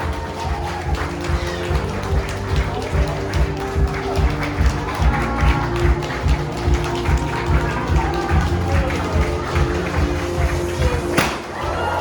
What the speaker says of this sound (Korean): 신랑 신부 행진 뜨거운 박수를 보내십시오.